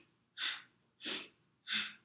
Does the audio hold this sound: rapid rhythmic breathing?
yes